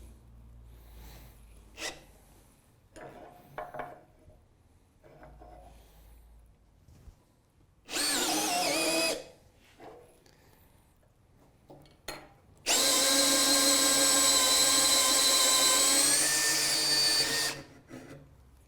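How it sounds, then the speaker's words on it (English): A power drill whirs in two bursts, a short one and then a longer sustained run, close up, drilling 10 mm holes in a wooden chair seat, with quiet clattering and handling sounds in between. "3 more holes to drill, 10 millimetres, all at 90 degrees."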